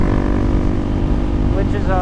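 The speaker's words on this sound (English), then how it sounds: "Why are you lugging? I feel like I'm not putting it all the way in gear" Honda CRF300L dirt bike engine lugging in gear, a low, rough, labored rumble that stays steady and close for about two seconds, with a voice over it.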